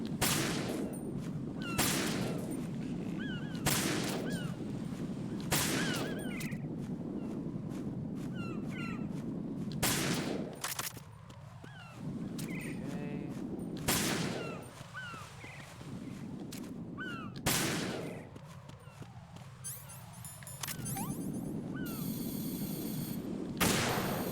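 Gunfire in the video game Metal Gear Solid 2: sharp, loud shots fire one at a time every couple of seconds over low game ambience, with no talk.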